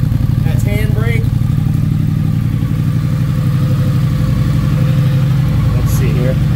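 A 2022 Triumph Scrambler motorcycle engine idles loud and close with a steady throbbing pulse throughout, with a brief voice heard over it.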